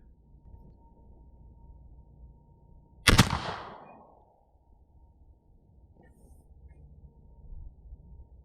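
A single loud, sharp shot from a Pilgrim-era Mayflower gun fired at a turkey target, with a booming report that rolls away over about a second before quiet background returns.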